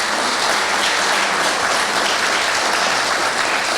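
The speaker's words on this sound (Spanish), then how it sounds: "Le brindamos también un fuerte aplauso" Audience at a book presentation breaks into loud, dense applause, a continuous wash of many hands clapping evenly throughout.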